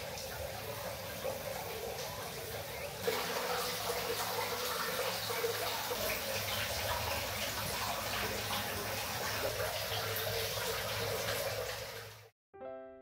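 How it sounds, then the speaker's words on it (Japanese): Steady water pours and splashes into an outdoor open-air hot spring bath at a hot spring inn, a continuous rushing flow that holds at one level before cutting off abruptly near the end. "外の風を感じられる気持ちのいい露天風呂です。"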